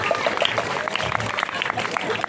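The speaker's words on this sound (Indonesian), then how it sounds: "tepuk tangan dumun" An audience at a Balinese comedy performance in the outer courtyard of a Pura Dalem temple breaks into lively applause, dense crackling claps mixed with crowd noise while a performer keeps talking over it.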